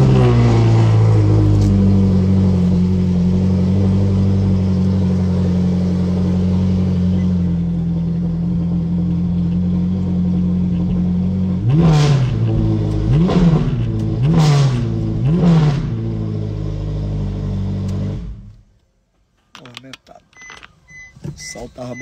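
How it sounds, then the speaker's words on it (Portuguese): A car engine idles steadily and loudly, then revs in four quick bursts as the car is moved, before cutting off abruptly near the end. "Vou movimentar esse carro de lugar aqui"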